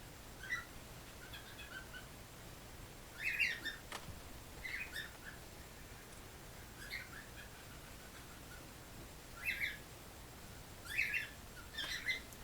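A pet bird chirps in short scattered bursts of high squeaky calls, faint and indoors, with quiet pauses between.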